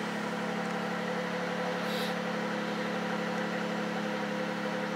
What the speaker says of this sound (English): Okay, car's running.